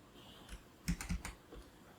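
Laptop keys tapped in a short burst of a few quick clicks, close and fairly quiet, alone with no talk.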